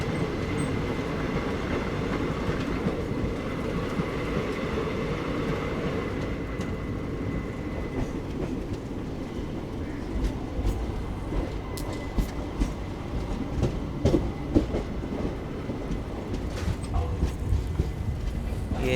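An Intercity Express passenger train rolls steadily toward the Sabarmati yard, a continuous low rumble of wheels on rails with scattered clicks and faint squeals, heard from on board and without talk.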